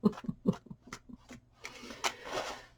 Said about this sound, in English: Want it to be a good one, so I'm shuffling really hard.